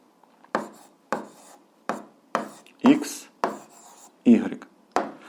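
A pen writes algebra on paper at close range, with about eight short scratchy strokes in a steady rhythm and quiet gaps between them.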